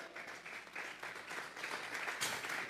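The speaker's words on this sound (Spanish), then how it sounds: "Vamos a regalarle ofrenda de palmas al Dios de la gloria." A church congregation claps during a Sunday service, a quiet, distant wash of many hands clapping steadily for a few seconds without talk.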